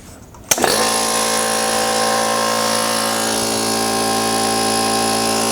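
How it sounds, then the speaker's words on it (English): Air compressor powered by a Bluetti AC200P solar generator switching on after a quiet moment with a sharp onset, then running at a steady loud motor whine and hum. "plug in the air compressor,"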